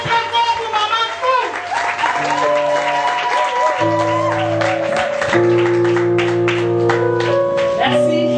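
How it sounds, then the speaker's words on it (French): Applause for a mother at a church women's anniversary celebration, clapping spread across the room while sustained keyboard or organ chords and voices play loudly over it, the music dominating the mix. "Applaudissez très fort pour Maman"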